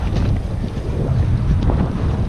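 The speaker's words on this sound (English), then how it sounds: "Oh, windy." Strong wind buffets the microphone with a constant low rumble and gusty noise, with no talking.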